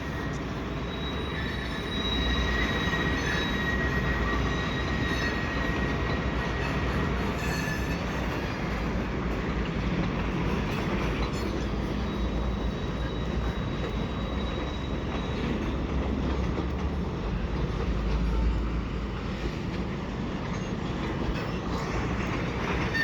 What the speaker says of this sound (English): CN train is going too at the same time.